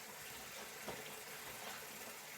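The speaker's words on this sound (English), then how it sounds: "I'm going to test the waste here, see how it drains" Steady rushing flow of water draining through a sink waste pipe, a continuous close gush with a faint gurgle partway through and no talking.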